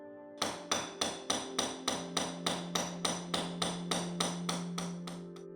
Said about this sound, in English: I'm going to be using a bold chasing tool which is rounded and polished, and a very heavy hammer